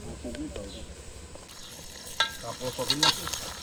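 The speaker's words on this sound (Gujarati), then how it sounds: "રીંગણાને પહેલાં તળી લેવાના" Whole brinjals fry in a pan over high heat in an outdoor village farm kitchen, a steady sizzle with stirring clatter building toward the end, under faint background voices.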